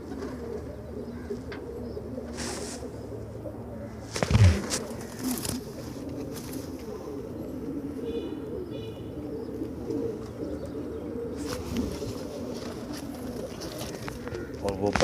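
Pigeons coo softly at a pigeon market in Multan, low murmuring calls scattered under someone speaking, with a brief knock partway through and light background chatter.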